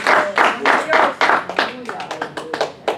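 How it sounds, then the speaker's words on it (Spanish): A church congregation claps in praise of the Lord, loud close irregular bursts of hands that grow quicker and lighter, with a voice speaking over the clapping. "Denle un aplauso al Señor"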